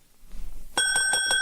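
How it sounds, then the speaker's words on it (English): A shop counter bell rings in a radio drama scene, several quick repeated metallic dings with bright sustained overtones, loud and close, following a short stretch of quiet room tone. "There was a bell on the counter."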